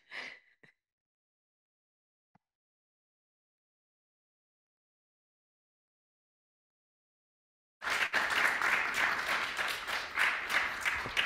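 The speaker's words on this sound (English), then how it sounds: "Can you clap again?" An audience at the end of an art lecture bursts into a dense wave of applause after a long silence, many hands clapping loudly and steadily, preceded by a brief earlier ripple of clapping.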